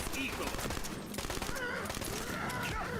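Rapid bursts of enemy gunfire in the fantasy shooter game Tiny Tina's Wonderlands, a dense, fairly quiet crackle running steadily under talking and game sounds.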